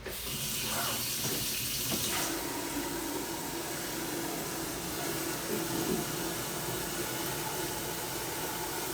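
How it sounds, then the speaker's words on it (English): Water pours steadily into the reservoir of a Keurig coffee maker, a continuous close hiss and splash that starts with some clatter and then runs evenly for several seconds. "So then I set that right here on my Keurig. I need to add some water to it."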